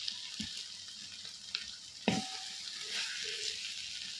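Sautéed onions for a dry beef masala sizzle softly in a pan as coriander powder goes in, a steady low hiss broken by spoon taps and one sharper clank partway through.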